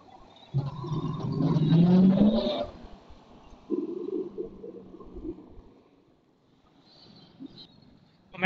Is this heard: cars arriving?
yes